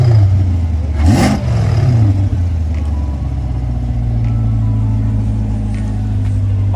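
An American car's engine revs at a cars and coffee meet, one sharp rise and fall early on, then settling into a loud, steady rumbling idle nearby, with faint voices in the background.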